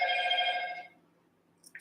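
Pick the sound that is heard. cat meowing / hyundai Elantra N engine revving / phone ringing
phone ringing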